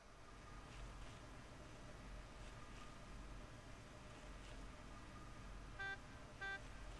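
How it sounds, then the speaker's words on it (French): A car horn honking in the Lego Batman 3 video game, two short toots near the end over a faint, steady engine-like hiss, with no speech. "Ok, j'ai le truc comme on klaxonne."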